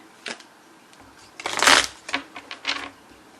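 Tarot cards being shuffled in quick riffling bursts, a soft flutter then a louder rapid ripple and a few short shuffles, close by and without speech.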